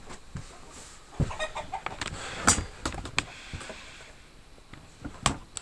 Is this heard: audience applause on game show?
no